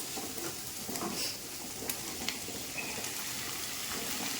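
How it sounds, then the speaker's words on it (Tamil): Curry leaves and onions sauté in a pan for a garlic kuzhambu, giving off a continuous, fairly even sizzle with faint occasional stirring clicks and no voices. "இப்போ நான் கருவேப்பிலை போட்டுக்கிறேன் கருவேப்பிலை போட்டு ரெண்டு வதக்கு வதக்கிட்டு"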